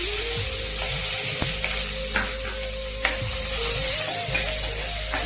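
Onions sizzle steadily in hot oil for a brinjal and tomato curry, a dense continuous frying hiss with occasional clinks of a stirring spoon against the pan.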